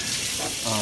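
A kitchen tap runs hot water, roughly 140 to 150 degrees, in a short, steady splashing stream. It is fairly close, with a brief tonal rise near the end.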